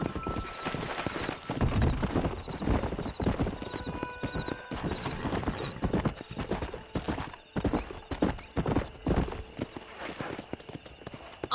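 Horse galloping in the Western video game Red Dead Redemption, a steady fast clip-clop of hooves with an occasional whinny, loud and continuous over game ambience and faint speech.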